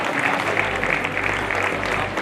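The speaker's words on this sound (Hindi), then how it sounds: "श्री जोरदार तालियों से आप भी इसमें शामिल हों।" An audience at a Mines Safety Week closing ceremony applauds in a steady, even patter of clapping, with a low hum from the hall's sound system underneath.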